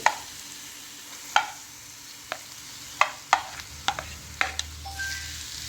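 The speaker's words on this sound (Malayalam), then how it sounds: "കറിവേപ്പില, ഇഞ്ചി എല്ലാം കൂടെ ഇട്ടിങ്ങനെ ഇളക്കണം" A spatula stirs squid stir-fry with curry leaves and ginger in a pan. Sharp scrapes and taps come at uneven intervals over a low, steady sizzle.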